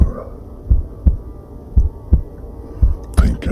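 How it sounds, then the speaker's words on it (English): Fast heartbeat sound effect, a steady series of low, soft thumps pulsing under a dark hum, close and moderately loud. "heart beating fast"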